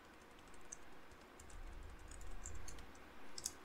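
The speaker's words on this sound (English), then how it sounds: "now I can type in JUserman and his password" Fingers type a username and password on a computer keyboard, a quiet scattered run of soft key clicks with a few sharper taps near the end.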